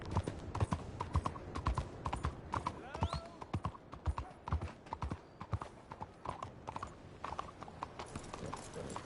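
Steady clip-clop of horse hooves trotting at a brisk, even rhythm in Red Dead Redemption 2, with faint game ambience and a few voices talking in the background.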